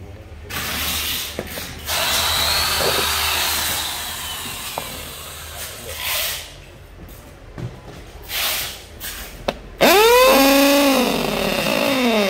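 A Hitachi 460W rotary hammer drill revs in short, uneven bursts of whirring motor noise with pauses between, then ends on a louder sustained run whose pitch rises and falls.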